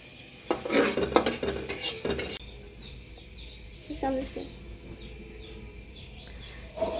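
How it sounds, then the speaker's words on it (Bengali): Onion, garlic, green chili and tomato ground together on a flat stone slab give a burst of loud scraping and clattering strokes for about two seconds, then quieter, sparse knocks with faint background chirps. "আমি এখন পাটায় নিয়েছি, এটা আমি এখন বাটবো।"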